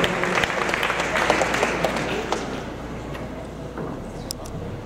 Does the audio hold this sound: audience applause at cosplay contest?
yes